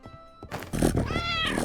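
Video game cat meowing: after a short quiet lead-in, a close, clear meow with a rising then falling tone stretches over the second half, set against a steady background bed.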